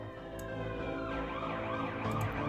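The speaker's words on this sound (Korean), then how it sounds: "사이렌 소리 때문에 좀 줄여놨었는데" A detective video game plays a loud, continuous siren with sweeping, wailing tones like an emergency vehicle, filling the whole stretch on its own without any talk.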